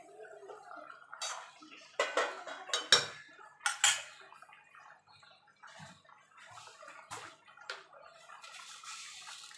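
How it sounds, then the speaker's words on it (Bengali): Fried vegetables being stirred into a fish-head Malabar spinach curry in a pan, with irregular scraping and clanking of a spoon against the pan and soft wet squelches, close and fairly quiet, no voices. "এবার আমি যে সবজিগুলো ভেজে রেখেছিলাম সেই সবজিগুলো দিয়ে দেবো, দিয়ে ভালো করে সবজিগুলো মিশিয়ে নেব"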